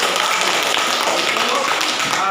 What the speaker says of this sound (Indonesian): Iya, bagus sekali, tepuk tangan.